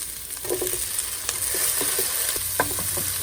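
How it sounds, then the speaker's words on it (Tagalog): Tomatoes added to hot oil with onion and garlic sizzle steadily in a pan for chop suey, with a few short stirring scrapes and clinks over the continuous frying hiss. "Ato ilunod ang kamatis."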